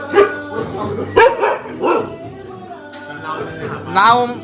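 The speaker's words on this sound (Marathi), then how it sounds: "आणि याचं कुत्र काय आहे? कुत्र्याचं नाव मोन्या." A dog barks and yips several times at close range in short, uneven bursts, mixed with people talking nearby.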